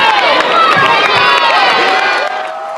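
A crowd roars and cheers loudly at a 2012 SCHSL Class 1A boys high school basketball championship, with dense, sustained shouting filling the whole moment.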